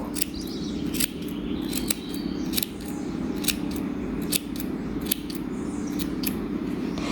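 Scissors snip off excess amigurumi yarn in a series of crisp, close cuts spaced about a second apart over a steady low background hum, with no talking.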